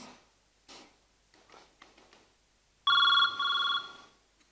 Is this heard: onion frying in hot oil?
no